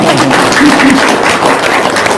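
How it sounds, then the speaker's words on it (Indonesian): An audience claps loudly and continuously, a dense wash of hand claps with occasional thumps and no speech over it. "Tepuk tangan dulu dong."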